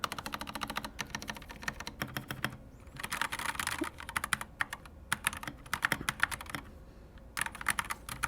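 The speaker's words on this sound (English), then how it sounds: "It's a cool keyboard. Stock sounds pretty good actually." Steady typing on a KC84 mechanical keyboard with modded stabilizers, crisp rapid keystrokes in uneven bursts with brief pauses, close-miked and clean with no voices.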